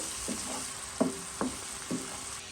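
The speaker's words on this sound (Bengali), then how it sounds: "হ্যাঁ, একটু নাড়াচাড়া করে এগুলোকে একটু কষিয়ে নিব।" Spices for khichuri frying in a pot give a soft, steady sizzle, broken by four distinct scraping knocks of a spoon against the pot as they are stirred, close and without talk.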